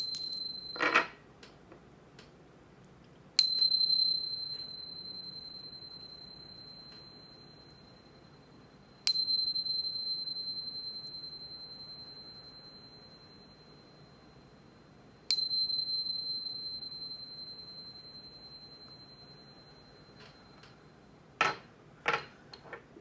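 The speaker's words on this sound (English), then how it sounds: "But first, let's chime." Bright metallic chime strikes ring out four times at spaced intervals, each sustaining a clear tone that slowly fades, with a few quieter clinks and a final cluster of taps near the end.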